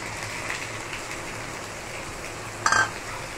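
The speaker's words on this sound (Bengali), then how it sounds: "আদা লঙ্কা বাটা দিয়ে দিই" Ginger and green chili paste dropped into hot oil in a pan, a constant rain-like fry crackle with a brief louder metallic clink and splutter near the end.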